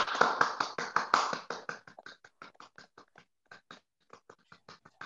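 Applause honouring health professionals at the close of a webinar, a small group clapping briskly at first, then thinning to scattered, fading claps with growing gaps until a few faint taps remain.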